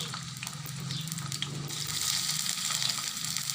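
Chopped onion frying in oil in a wok, a soft steady sizzle that brightens and grows a little louder partway through, heard alone.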